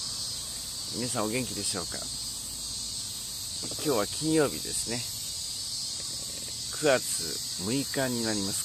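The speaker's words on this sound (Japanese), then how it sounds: "今日はちょっと気温が高いのでセミがちょっと鳴いてますね。" Cicadas chirp on a warm early-September morning, giving a continuous high buzzing drone throughout while a person speaks Japanese over it in short phrases.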